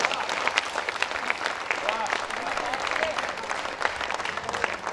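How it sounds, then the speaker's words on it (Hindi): An audience at a Hindi poetry gathering, an all-India kavi sammelan, claps in a steady, dense roar of applause that holds level throughout, with voices mixed in beneath it. "एक एक व्यक्ति ताली उठाना"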